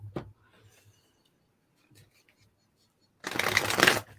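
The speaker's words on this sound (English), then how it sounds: "I'm just going to do one more shuffle." A deck of tarot cards shuffled once near the end, a dense papery riffling burst about a second long, after faint handling sounds and near-silence.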